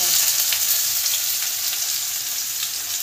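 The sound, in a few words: meat and spices frying in a wok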